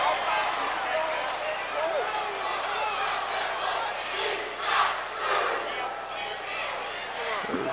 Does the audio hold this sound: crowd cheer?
yes